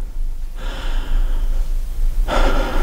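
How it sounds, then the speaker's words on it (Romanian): A person draws a deep, audible breath in a radio theatre play, a long airy inhale followed by a sharper breathy exhale, close and alone. "Respiră adânc."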